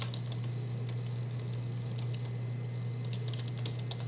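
Computer keyboard typing, a light patter of irregular keystrokes at moderate distance over a constant low electrical hum.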